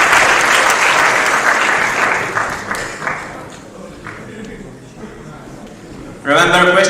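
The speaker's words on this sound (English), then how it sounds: "A round of applause" An audience at a general assembly council meeting bursts into loud applause that fades out over a few seconds, leaving quiet room noise before a speaker's voice comes in near the end.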